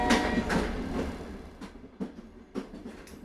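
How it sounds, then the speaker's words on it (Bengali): A Bongaon local commuter train on the Bongaon–Sealdah line at a station before dawn, heard as a series of moderately loud rhythmic clacks and rumbles at intervals, fairly close. "ভোর 3টের বনগাঁ লোকাল।"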